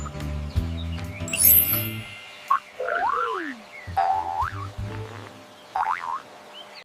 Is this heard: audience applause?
no